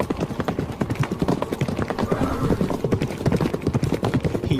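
A horse gallops along at speed, hooves clip-clopping in a quick steady rhythm, close and loud, with no talking over it.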